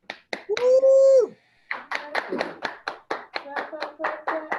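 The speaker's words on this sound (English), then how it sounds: "Clap, clap, clap, clap." Steady hand clapping, a series of sharp, evenly spaced claps close by, interrupted early on by a loud shout of a voice.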